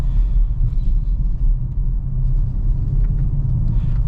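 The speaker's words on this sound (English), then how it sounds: "That V8 has such a magnificent sound to it." A 2023 Audi RS6 Avant V8 heard from inside while driving, a deep continuous low rumble with throbbing pulses, loud and steady throughout.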